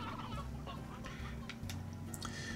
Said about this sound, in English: I can't seem to produce enough chickens